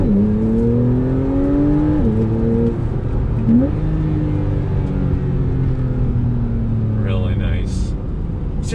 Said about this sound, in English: want to hear those glorious downshifts